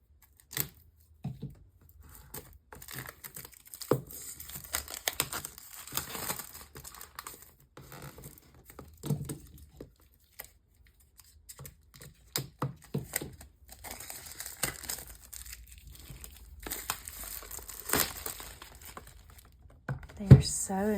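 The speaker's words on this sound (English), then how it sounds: "Let me just get something to open the plastic." Plastic packaging around a color cube is opened up close, with intermittent crinkling, tearing and snipping scattered over twenty seconds and quiet pauses between bursts. A person talks briefly at times.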